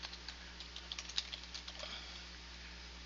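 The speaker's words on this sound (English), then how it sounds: "So I'm going to type in" Someone types an email address on a computer keyboard, a quiet run of light, irregular key taps close by, bunched in the first half and then thinning out.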